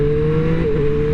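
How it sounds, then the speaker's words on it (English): A Triumph Street Triple 765 R motorcycle engine holds a loud, steady high-rev drone close by, its pitch dipping slightly partway through the short burst. "This bike revs out pretty far."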